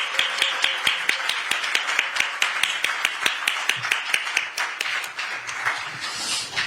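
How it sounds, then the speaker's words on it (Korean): An audience at a Democratic Party of Korea event claps steadily and energetically throughout, a dense, close run of applause with a few voices murmuring beneath it. "힘찬 박수로 맞아주시기 바랍니다."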